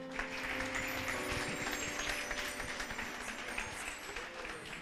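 Applause from a congregation at an Assembleia de Deus evangelical church service, steady and dense clapping filling the room, with faint voices underneath.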